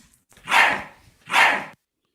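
A dog barks twice at someone at the front door, two loud, drawn-out barks about a second apart, then silence.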